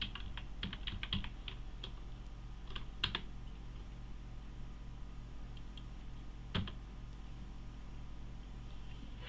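Typing a search query on a computer keyboard: quick bursts of close, crisp key clicks with short pauses and a few sharper taps, over a steady low background hum.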